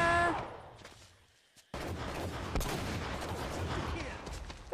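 Gunfire in Uncharted: Drake's Fortune, a quiet lull giving way to a sudden run of rapid shots and rattling fire that continues steadily to the end.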